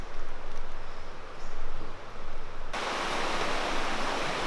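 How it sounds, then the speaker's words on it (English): Steady broadband rushing whitewater of the Farmington River, loud and close, roaring continuously with a brighter, more intense wash in the second half. "do you know why this stuff's called white water?"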